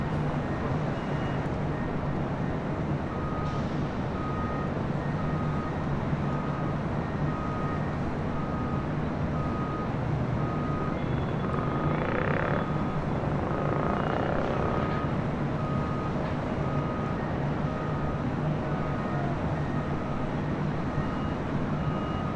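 An Aeromexico Boeing 787-8 Dreamliner takes off from runway 25 right at LAX, a steady distant jet roar holding level throughout, heard alone.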